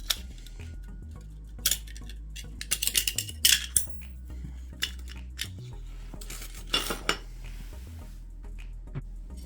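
SCCY DVG-1 pistol magazine scraping and catching as it is pushed and tilted into place, a run of short metallic clicks and rasps clustered in bursts over a low steady hum, fairly close.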